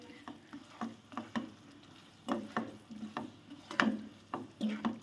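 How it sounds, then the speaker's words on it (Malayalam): White star fruit pickle gets stirred in a pan after vinegar is poured in, giving soft irregular scrapes and taps of a spoon with a faint sizzle between them, close but quiet. "പിന്നെ നമുക്ക് കുറച്ച് വിനാഗിരിയും കൂടെ ഒഴിച്ച് നല്ലതുപോലെ ഇളക്കി സ്റ്റൗ അങ്ങ് ഓഫ് ചെയ്യാം."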